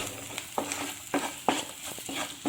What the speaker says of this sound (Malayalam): ഇഞ്ചിയുടെയും വെളുത്തുള്ളിയുടെയൊക്കെ പച്ചമണം മാറി വരുന്നത് വരെ നമുക്കിത് നന്നായിട്ടൊന്ന് വഴറ്റിയെടുക്കണം